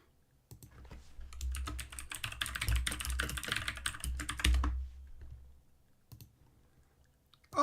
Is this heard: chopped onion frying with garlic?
no